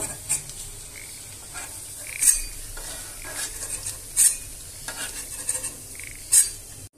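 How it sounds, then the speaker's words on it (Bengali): Cauliflower and chicken pakoras frying in hot oil, a soft continuous sizzle broken by several sharp clinks and scrapes of a utensil against the pan. "আমি পাকোড়াগুলোকে গরম তেলে ছেড়ে দিব"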